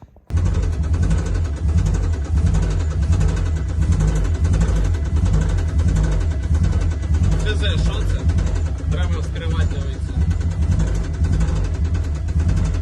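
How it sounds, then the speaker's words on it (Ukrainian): A car engine with engine knock runs continuously at idle, a steady low rumble with a faint repetitive ticking underneath, close by and fairly loud. "по звукам зрозуміло, що застучав мотор"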